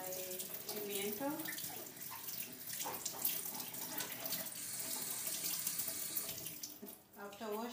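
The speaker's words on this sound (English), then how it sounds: "Then I will wash my pimiento." Tap water runs steadily into a sink while a pimiento pepper is rinsed under it, close and continuous with splashing shifts, and a voice speaks briefly near the end.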